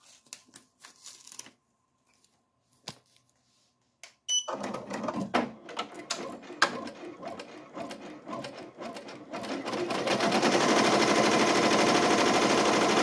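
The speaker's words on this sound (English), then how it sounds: "so I'm gonna start the embroidery" Embroidery machine stitching a sweatshirt, starting after a few clicks and quiet handling, then a close, rapid needle chatter that settles into a loud, steady whir.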